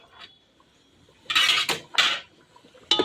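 Garlic and onion paste added to a hot pan while cooking chicken, heard as a few bright metallic scrapes and clinks of a spoon against the pan, close and separated by short pauses.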